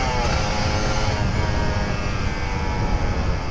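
Engine of a Kawasaki Ninja RR 150 motorcycle (older model) on a Sunday morning ride, a steady, loud and close drone with broad rumble and no clear rev peaks, continuous throughout with no talk.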